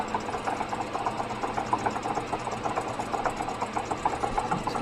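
A lathe turns an exhaust-side part at 450 RPM, a steady close mechanical hum with a faint rhythmic tick and cutting rasp throughout.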